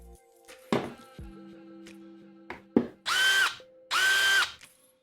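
A compact cordless power driver spins up in two loud, sustained bursts of roughly a second each, preceded by a few short clicks and trigger blips, with no talking.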